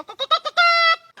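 A man mimics a goat, voicing a few short choppy bleats that end in one longer, wavering nasal bleat, close and loud, all in under two seconds.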